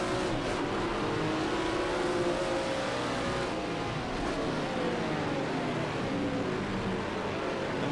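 A GTP race car in Project CARS 2 at Daytona roars steadily at high revs, a loud continuous engine drone with shifting pitch as it is pushed hard, with no voices.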